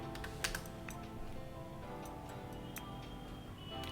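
Rapid, steady keystrokes on a computer keyboard, close and fairly quiet, with an irregular clicking rhythm and no talk.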